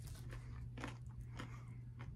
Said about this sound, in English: I get done chewing